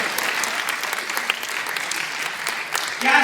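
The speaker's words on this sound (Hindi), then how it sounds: "कविता खत्म हुई, तालियां हो जाए" An audience at a comic poetry recital applauds in a steady burst of dense clapping, moderately loud and unbroken for a few seconds.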